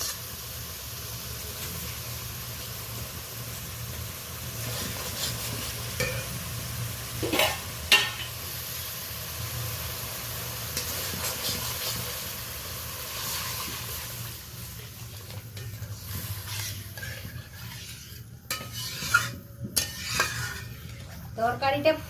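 Hot water poured over fried spice paste and a fish curry stirred in a pot: sizzling hiss under repeated scrapes and clanks of a utensil on metal, close, with brief louder knocks toward the end.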